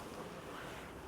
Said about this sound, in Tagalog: Ang hangin, ang sarap, ang lamig.